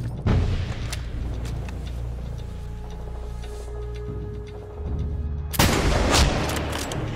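Gunfire in the Black Hawk Down video game: a sharp opening shot, a stretch of quieter tonal background, then a burst of loud, dense rapid shots near the end.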